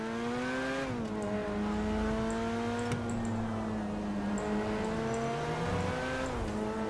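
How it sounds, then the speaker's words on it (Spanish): A car engine in GTA 5 with a real-life mod revs and accelerates with a loud, continuous tone whose pitch climbs and shifts between gears, close and steady throughout. "vamos a probar cómo corre el coche este y cómo suena"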